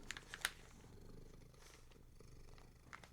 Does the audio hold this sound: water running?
no